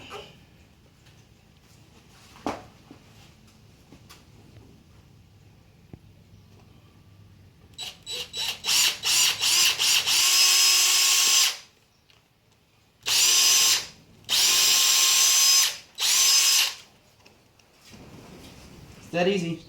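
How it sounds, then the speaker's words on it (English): A power drill plunges through a part on a Ford GT350 to cut a divot, running in several loud, close bursts with short pauses between them after a quiet stretch. "So grab the drill."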